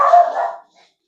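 A dog gives one loud, close, single bark that fades quickly into silence.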